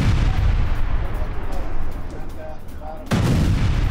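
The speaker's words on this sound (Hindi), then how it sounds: "आप देख रहे हैं तस्वीरों में एक के बाद एक कई धमाके हो रहे हैं" Explosions from an Israeli bombardment of Lebanon come as loud, continuous booming and rumbling blasts, with a fresh heavy surge near the end.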